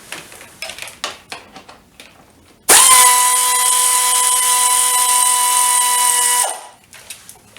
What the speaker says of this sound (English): Now you need to remove this bolt right here. It is a 5mm hex head.